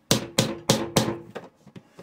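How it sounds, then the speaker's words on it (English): A small hammer tapping the corners of a plastic bucket lid to seal it: four sharp, evenly spaced strikes, then three quicker, softer taps, close and dry with no talk. "Little hammer to the corners."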